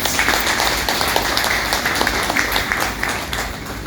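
An audience of masters at a PSSM gathering bursts into dense, sustained applause that holds steady for the whole stretch, with many hands clapping at once and no voices on top.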